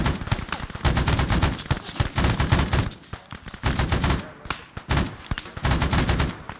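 Sustained bursts of automatic and rifle gunfire in the Vietnam War setting of Arma 3 Unsung, loud and dense, with rapid overlapping shots in rolling volleys and brief lulls between them.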